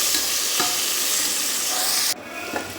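Tomatoes frying in oil for mushroom biryani, giving a steady loud sizzle with stirring scrapes. The sizzle drops off abruptly near the end, leaving a quieter hiss.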